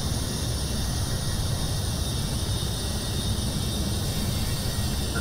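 Steady, continuous engine drone from an aircraft descending with reduced throttle in the Roblox flight game Aeronautica, on a corporate flight, a constant broadband hum held evenly throughout with no talk.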